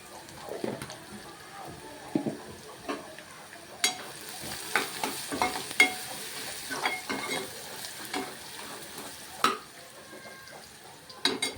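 Crushed garlic and cumin fry in a pan with a soft sizzle while a utensil stirs and scrapes in scattered knocks and clinks, close and moderately quiet.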